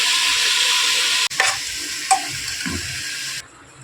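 Tomatoes with turmeric and salt stirred in a hot pan, a steady close sizzle with scraping strokes and a few clinks of the spoon against the pan, cutting to near quiet at the end.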